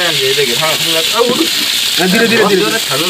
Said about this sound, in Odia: ଆମର ମାଛ ଭଜା ରୋହି ମାଛ ଭଜା